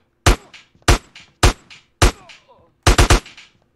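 Gunfire in the video game GTA San Andreas: sharp, loud shots spaced roughly half a second apart, five single cracks followed by a quick burst of three, each with a short decaying tail.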